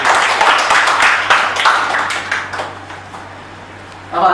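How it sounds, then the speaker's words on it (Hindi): A seminar audience claps together in a short burst of applause that fades out, then a sharp clatter of claps returns at the very end, with a steady low hum running underneath. "ताली बजाओ एक बार।"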